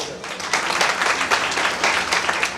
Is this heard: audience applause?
yes